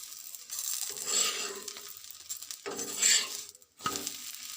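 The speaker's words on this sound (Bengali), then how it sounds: "একটু এপিট ওপিট ভেজে নিচ্ছি যাতে কাঁচা ভাবটা না থাকে" Pitha, a Bengali rice cake, frying in a pan over a gas flame, sizzling in close bursts with stirring and scraping sounds breaking in between.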